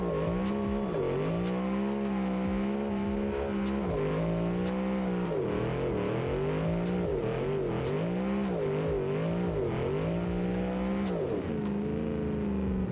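Steady engine drone of a simulated car driving in BeamNG, a taxi run in the career mode, with the pitch rising and falling as it accelerates and shifts, heard continuously and up close without talk.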